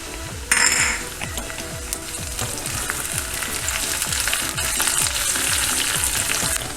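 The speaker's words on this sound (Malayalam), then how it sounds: "ചെറിയ ഉള്ളി ചെറുതായിട്ടൊന്ന് മൂത്ത് വരുമ്പോഴത്തേക്ക് ഒരു 3 ഉണക്കമുളക് വറ്റൽമുളക് അതിലേക്ക് ഇട്ട് കൊടുത്തിട്ടുണ്ട്" Small onions, dried red chillies and curry leaves frying in hot oil as a tempering for Trivandrum-style vada koottukari: a steady, dense sizzle that flares loudly near the start, with faint clinks of a utensil against the pan.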